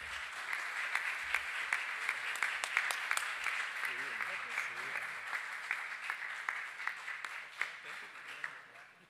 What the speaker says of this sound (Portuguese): Palmas para o Fábio, para o Gilberto.